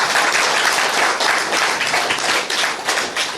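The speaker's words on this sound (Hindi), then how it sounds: "चलो पहले ताली बजा दीजिए" An audience at a spiritual class breaks into steady, dense applause, many hands clapping together nearby for a few seconds.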